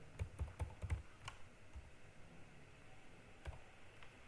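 Keys clatter on a computer keyboard while code is written for an Angular project, a quick burst of close, soft taps in the first second, then scattered single keystrokes over faint room hiss.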